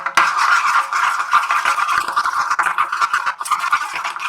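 Prawns being hand-mixed with spices and a tablespoon of oil in a bowl, giving a steady close wet squelching and stirring patter with light clinks, loud and continuous, no voices.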